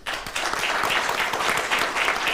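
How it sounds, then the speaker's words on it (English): An audience at a technology strategy event gives a loud, sustained round of applause, many hands clapping close and steadily throughout with no break. "A big round of applause, please"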